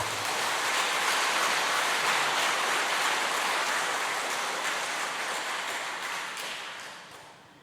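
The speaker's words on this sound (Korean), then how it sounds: "박재천 신부님 큰 박수로 맞으시기 바랍니다" A lecture audience gives a big round of applause to welcome Father Park Jae-cheon; the clapping is loud and sustained, a dense wash of hands that fades toward the end.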